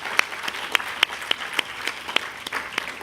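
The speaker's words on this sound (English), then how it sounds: "Let's give her another round of applause." An audience claps after a classical dance performance: sparse, light applause from a small group with a few distinct, separate claps, fairly close and without talk.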